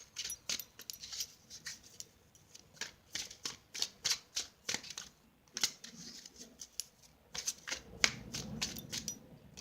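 Tarot cards being shuffled by hand in short crisp bursts of riffling and snapping, close and fairly quiet, with brief pauses between bursts and no talking.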